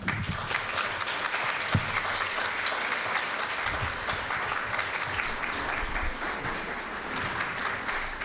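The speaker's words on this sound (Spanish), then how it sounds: "Recibamos con un caluroso aplauso" Audience applause welcoming two speakers to a keynote conference lecture in Mexico: dense, sustained clapping from a large crowd fills the whole stretch at an even level, with no talk over it.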